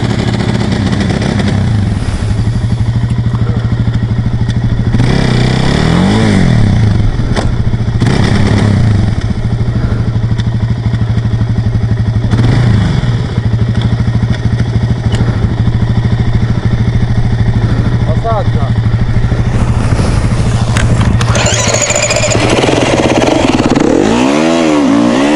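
Suzuki LTZ400 quad engine revving hard at full throttle, a loud, steady roar with rising pitch sweeps and a few clattering bursts, close by and continuous throughout.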